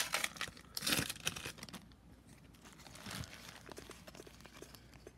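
A hockey card pack wrapper tears open with bursts of crisp crinkling and ripping, loudest in the first second and again briefly around the third, followed by softer rustling of foil and cards close by.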